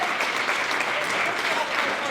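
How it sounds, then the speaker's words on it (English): Audience applause at a senior games athlete celebration, steady dense clapping from a crowd filling the whole stretch, fairly close and even, with no break. "Let's give Lennon a round of applause,"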